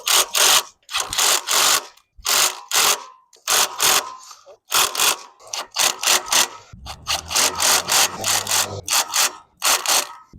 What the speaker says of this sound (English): Last thing we do is tighten up these cinch bolts over here.